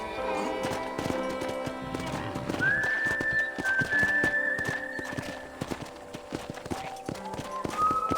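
Horse hooves in Red Dead Redemption clip-clop steadily at a brisk pace, with a whistling tone drifting above and the rhythmic beats continuing throughout.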